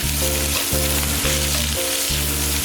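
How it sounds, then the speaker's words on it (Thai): Bacon sizzles and spits in its own rendered fat in a pan, a loud, steady frying hiss close up that carries on without a break and has no voices over it. "เคี่ยวเบคอนจนน้ำมันแห้งหน่อยเนาะแล้วก็เบคอนเริ่มกรอบเนี่ย"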